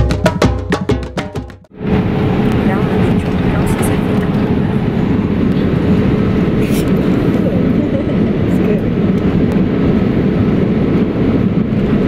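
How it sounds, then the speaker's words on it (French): Steady, loud broadband roar of an airplane cabin in flight, constant and droning, after a brief moment of faint chatter at the start. "Alors là, on va prendre l'avion."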